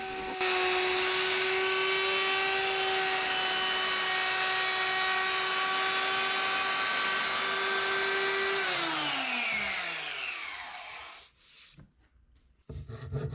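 A router with a roundover bit whines at a high steady pitch while cutting pine, loud and close, then spins down with a falling tone and stops, leaving faint handling noises.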